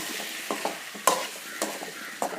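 Potato pieces are stirred into a masala gravy in a pan, making short wet scraping strokes over a low sizzle, close and fairly loud.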